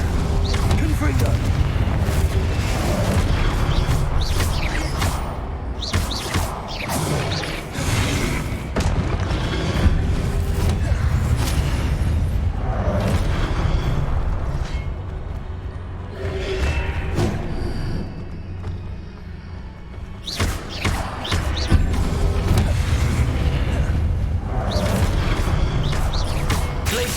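Confringo fire spells blast repeatedly during Hogwarts Legacy combat, a steady run of loud booms and crashing impacts with mechanical clatter, mixed with shouted spell voices throughout.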